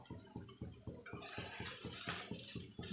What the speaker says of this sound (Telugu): ఇంకా సగం బియ్యానికి 1 గ్లాస్ వాటర్ అయితే పోసేసుకున్నాను